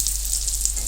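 A potato chicken kebab sizzles steadily in a frying pan as it is flipped, a brief, constant hiss heard close up, with a low hum underneath.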